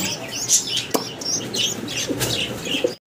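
Saharanpuri High Flyer pigeons chirp and call in a busy, close cluster of bird sounds, with brief flapping wing bursts through the short clip.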